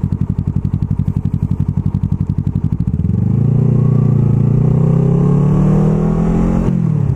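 A Kawasaki ER6F Ninja 650 motorcycle engine idles with a rapid, loud pulsing chug, then revs up into a sustained, rising roar that holds before cutting off near the end.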